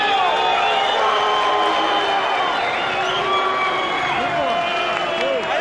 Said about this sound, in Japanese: ブーイングも聞こえます。